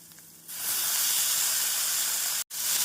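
Cauliflower goes into a pan of frying onions and sets off a loud, even hiss that swells suddenly, holds steady, then breaks off for an instant before it resumes, close up and with no talk.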